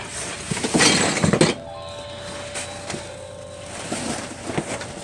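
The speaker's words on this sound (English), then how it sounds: "Oh, I see all the broken glass" Broken glass vases clink and rattle inside a dumpster, a burst of glassy clinks and shattering near the start, then quieter scattered taps and rustling.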